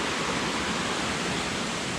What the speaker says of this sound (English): I definitely hear the falls going down